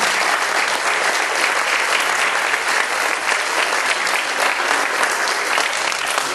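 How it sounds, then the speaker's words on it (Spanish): Audience at a municipal inauguration in Mahuixtlán, Veracruz, clapping loudly and steadily for the municipal president, a dense, continuous applause that lasts the whole stretch. "Vamos a brindarle un fuerte aplauso."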